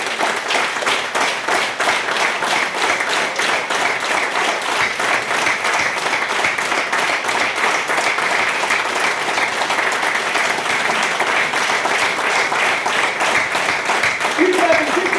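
A crowd at a Lions Club International gathering claps energetically, a loud, sustained and rhythmic barrage of many hands that holds steady for the whole stretch, with a voice faintly heard over it near the end.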